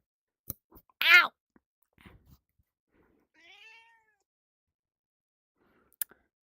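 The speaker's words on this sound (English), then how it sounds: "I have Hachi, so I'll be holding this cat" A house cat lets out one clear, fairly close meow, with a few scattered clicks and soft handling noises around it and a faint second vocal sound later in otherwise quiet surroundings.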